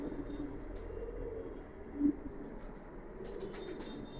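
High flyer pigeons kept in a loft give faint, low cooing over a quiet background hum, with a few soft chirps scattered through.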